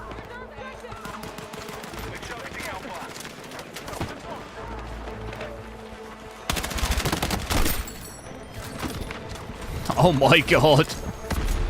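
Rapid automatic gunfire in the shooter Battlefield 6, long dense bursts of fast shots that grow louder and denser partway through, with a player speaking briefly over the shooting.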